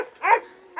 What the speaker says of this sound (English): Look at these puppies.